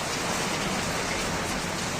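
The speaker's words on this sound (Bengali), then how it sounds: "ঝড় সহ বৃষ্টিপাত হচ্ছে বাইরে" Kalbaishakhi storm over Barasat with heavy rain and wind, a dense steady roar of downpour filling the whole clip without pause, loud and close, no voices.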